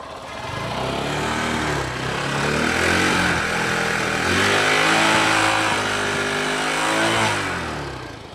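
A motorbike engine runs steadily and smoothly at close range, its low rumble holding even with a slight swell in the middle and no voices over it.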